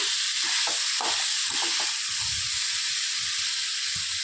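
Grated coconut sautés in a hot pan for a nonveg-style sundal kulambu, giving a loud, constant sizzling hiss with occasional soft stirring scrapes underneath.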